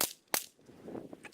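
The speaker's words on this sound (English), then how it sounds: "we're going to shoot those again, see if it was the ammo or if it's the mags" Two sharp, fairly faint gunshots crack about a third of a second apart during test-firing of a gun with Ruger BX-25 and Butler Creek Hot Lips magazines.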